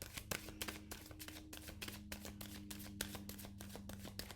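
Tarot reading cards being riffled and shuffled by hand close up: a steady run of quick papery bursts, one after another, over a faint low hum, with no talking.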